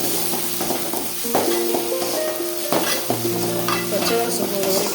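Shallots sautéing in a pan for channa masala, a loud continuous sizzle with frequent spoon stirs and scrapes clattering against the metal, heard close.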